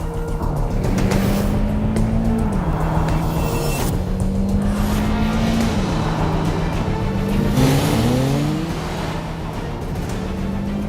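A car speeds along with its engine droning and rising in pitch, tires squealing sharply several times as it swerves, loud and close, with no talk over it.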